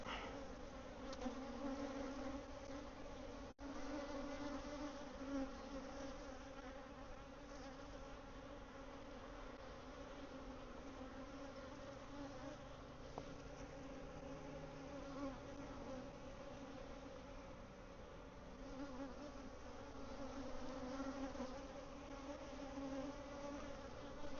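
Honey bees hum steadily around an open hive during a queen release check, a dense continuous buzz of many insects close by, with no talking over it.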